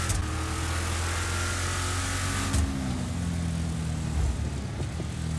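Vapid Trophy Truck engine from a video game revving hard in a continuous, loud roar with steady low harmonics, the pitch shifting briefly midway and again near the end, with no talk over it.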